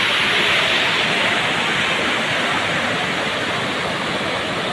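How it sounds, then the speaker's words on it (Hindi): Water rushing steadily near Mayadevi temple, a loud, continuous broadband roar like a stream or small waterfall close by, unbroken across the whole stretch with no voices. "यहाँ पे कुछ ऐसा पानी जा रहा है"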